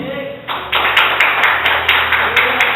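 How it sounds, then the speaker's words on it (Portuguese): Church congregation clapping during a sermon, a close, loud burst of hands that starts sharply and continues with rhythmic, slightly uneven claps over a faint low hum. "Você pode dar um aplauso a Jesus?"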